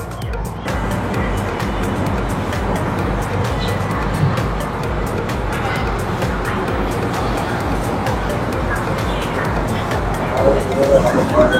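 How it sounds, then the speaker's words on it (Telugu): A passenger train in Malaysia travels toward Batu Caves station, heard from inside the carriage as a continuous, even rumble of wheels and motion. "జస్ట్ నో మనం ట్రైన్ క్యాచ్ చేసాము"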